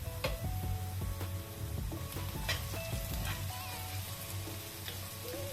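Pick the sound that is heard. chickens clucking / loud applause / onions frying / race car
onions frying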